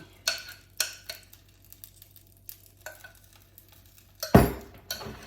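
Thick cornbread waffle batter with cheese and jalapeño is spooned into a waffle pan, giving a few soft scrapes and clinks of a spoon against the pan. A louder wet clatter comes near the end.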